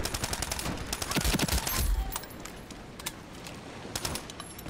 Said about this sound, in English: Uzi with a silencer.